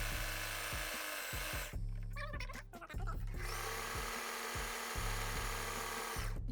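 A Facilita Pro 4432 sewing machine runs an overlock-style stitch in quick, steady mechanical bursts, close and fairly quiet, pausing briefly mid-run before stitching again.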